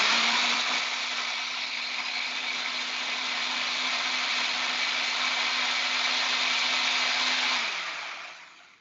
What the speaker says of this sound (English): ready to blend. 4 ingredients, pretty simple. Blender on